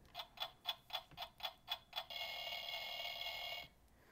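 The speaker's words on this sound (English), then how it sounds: "and his very own alarm clock." An alarm clock ticks in a quick, even series of sharp clicks, then gives way to a sustained ringing buzz that stops abruptly; faint and close, with no voices.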